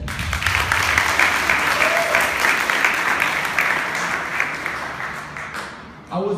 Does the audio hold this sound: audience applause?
yes